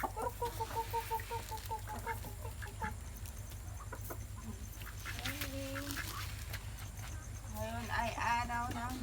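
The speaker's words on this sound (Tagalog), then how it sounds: "Papakain na naman po ako ng manok." Chickens cluck and squawk intermittently while being fed in the morning, with rhythmic clucking near the start and varied calls throughout, set over a constant low background hum with some distant voices.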